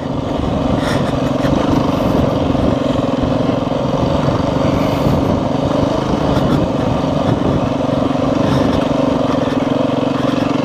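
Dual sport motorcycles, a Beta and a Honda XR400, ride nearby with a continuous loud engine drone and rough buzzing throttle, steady throughout with no talk.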